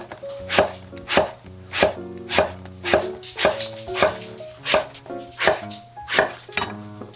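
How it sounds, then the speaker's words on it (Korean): A knife chops halved eggplant diagonally into thick slices on a board, about a dozen steady, evenly spaced cuts landing crisply and close, with no voices. "반으로 자른 가지를 어슷어슷하게 도톰하게 잘라주세요"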